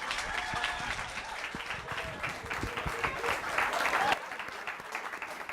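Audience applause for a comedian at a live comedy show, a steady dense patter of clapping from the room that lasts throughout, with a slight swell near the end.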